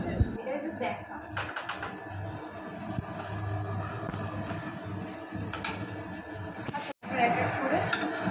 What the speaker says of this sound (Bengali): এটাও ভালো করে তেলে ভালো করে নাড়িয়ে চাড়িয়ে নিচ্ছে।